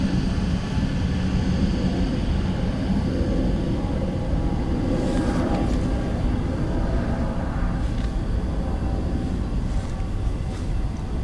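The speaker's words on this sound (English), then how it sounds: "Ryanair from Bristol next" A Ryanair airliner from Bristol arriving at Dublin Airport, a dense, continuous low rumble of jet engines with some faint higher whine, steady and moderately loud throughout.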